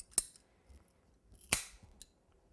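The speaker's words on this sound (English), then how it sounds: "these are PVC pipe cutters" PVC pipe cutters snap through plastic pipe in two sharp, close cuts about a second and a half apart, with a faint click after, in a quiet room.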